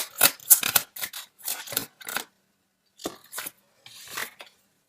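Tarot cards pulled and slid from a deck, several short dry papery rasps in quick clusters with brief pauses between them, close and fairly loud, no voices.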